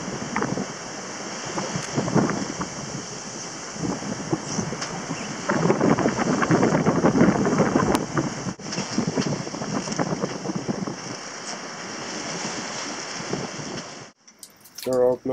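A sailboat under way at sea gives steady wind buffeting the microphone and a continuous wash of waves and surf. The sound rises in the middle and cuts off abruptly near the end.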